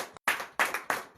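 Congregation at morning prayer in Comè, Benin clapping for Jesus: three or four sharp, close hand claps in quick succession after a brief pause, no talking.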